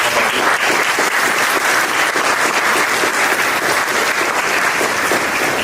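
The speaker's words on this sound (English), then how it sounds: "round of applause" A loud, sustained round of applause from an evening audience, thick continuous clapping at even intensity from start to finish with no voices over it.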